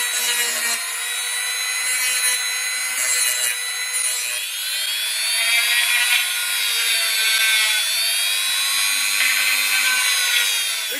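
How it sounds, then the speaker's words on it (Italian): A pipe cutter cuts a small aluminium tube with a continuous, loud, close scraping and rasping grind that runs steadily with slight changes in pitch as it turns. "Trattandosi di un tubicino in alluminio, posso usare tranquillamente un tagliatubi, che per questo tipo di lavori è sufficientemente rapido e offre anche un taglio molto preciso."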